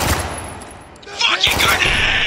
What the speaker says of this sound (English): Yeah, Oscar, open fire! That's an order!